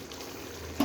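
Mutton fries in a pan with a soft, continuous sizzle, and a brief louder crackle or stir comes near the end of a very short moment.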